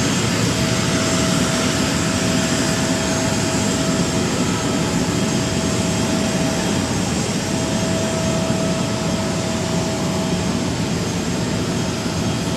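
Loud, steady roar of an Emirates Boeing 777(ER) jet at London Stansted Airport, a constant broadband engine rumble with a faint whine, sustained without letup.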